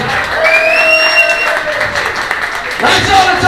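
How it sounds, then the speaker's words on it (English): Applause from a live comedy show audience, a steady broadband wash of clapping with high whistle-like tones over it, swelling again near the end. "Give yourself a round of applause, you're amazing."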